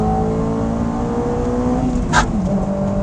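A Honda S2000 AP2 engine drones loud and close throughout, its steady note rising slightly as the car accelerates on cold, loose tires over a bumpy surface, with a brief higher burst near the end.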